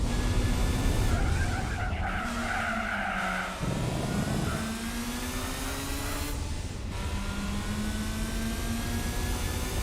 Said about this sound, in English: The sound of that turbo spooling up